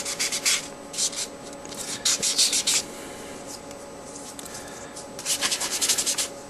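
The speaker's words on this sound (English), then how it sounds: "So again, using your sanding sponge ideally." Bursts of dry, scratchy rubbing from a sanding sponge, several quick strokes in a row, then a pause and another burst; close by and moderately loud.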